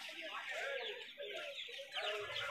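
Native hens at a crowded bird market cluck and murmur continuously close by, their overlapping calls rising and falling amid faint background bustle.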